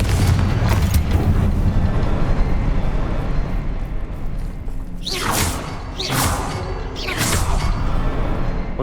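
Confringo blasting spell fired in Hogwarts Legacy: a rumbling backdrop, then three sharp whooshing blasts in quick succession about a second apart, loud and close.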